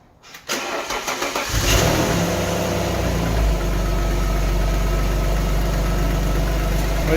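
After a moment of quiet, a starter cranks and an old Alfa Romeo GTA engine catches, revs up, then settles into a loud, steady running close by.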